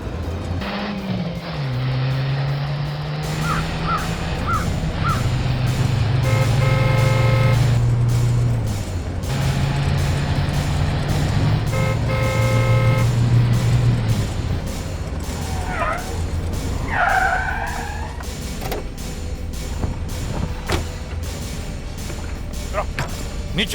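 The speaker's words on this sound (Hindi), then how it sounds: "दया, वो रहा, जल्दी भगा, ओवरटेक करो उसे।" Car engines roar during a chase as one vehicle overtakes another, loud revving rising and falling with passing whooshes, while people talk urgently over the action and dramatic music.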